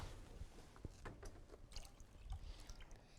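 Milk pours into a bowl of eggs in a kitchen, a soft, quiet liquid trickle and splash lasting a few seconds with faint clinks, no voices over it.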